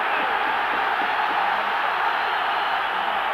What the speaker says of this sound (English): the crowd getting right behind Rangers now